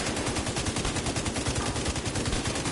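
Light machine gun fires in The Division 2, a dense rapid stream of shots at a steady rhythm, loud and close, without talk.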